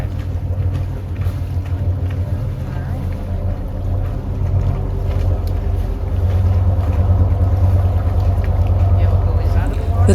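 A boat motoring slowly at about three knots in Georgian Bay with a tender towed behind gives a continuous engine drone and wind rush, with people talking over it.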